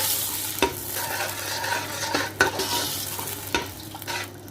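Garam masala and green chilies stirred into chicken pulao in a pot, a close sizzle broken by a few sharp spoon scrapes and knocks, no voices.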